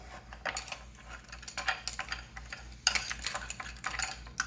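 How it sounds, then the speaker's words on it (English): Peach cake ingredients stirred together in a mixing bowl, giving close, irregular bursts of scraping and clinking that come and go in short strokes, with no talk. "Mix this together."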